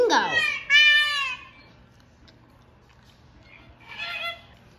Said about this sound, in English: We have a flamingo.